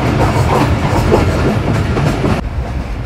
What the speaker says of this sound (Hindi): यार ट्रेन स्लो हो गई है